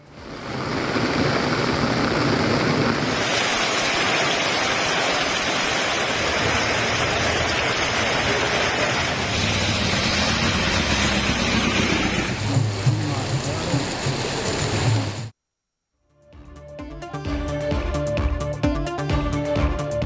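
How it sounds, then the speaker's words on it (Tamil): Heavy rain pours down with floodwater rushing along roads in Theni, Periyakulam and Tiruppur, a loud continuous wash of water; near the end it cuts to silence and then to different, busier sound. "வெளுத்து வாங்கிய மழை. சாலைகளில் பெருக்கெடுத்து ஓடிய வெள்ளம்."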